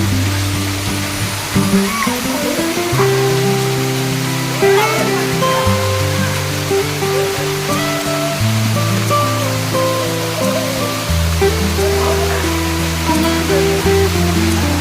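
Sesharai waterfall, a hidden forest fall throwing heavy cold spray, roars in a loud, constant close rush of falling water that never lets up.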